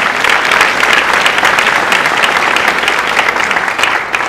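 Loud, dense applause fills the hall at Brentwood College School's 2022 closing day prize ceremony, many hands clapping steadily and close for several seconds without speech.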